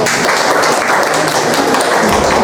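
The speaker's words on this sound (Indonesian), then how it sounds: "kita berikan tepuk tangan buat kelompok 1" Classroom applause during a Grade XI biology lesson as a student group is cheered, dense steady clapping from many hands filling the room, close and loud for the whole stretch.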